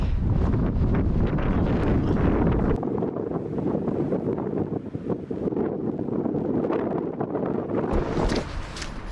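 Strong wind buffets the microphone on an exposed hillside walk near Sponds Hill in East Cheshire, a loud continuous roar of gusts with no speech.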